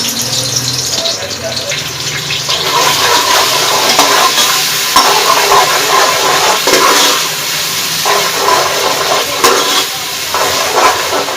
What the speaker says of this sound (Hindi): ऑयल जो है हमारे पास गरम हो गया, हम इसमें ये सब चीज़ें ऐड कर देंगे और इसको थोड़ा सा फ्राई करेंगे।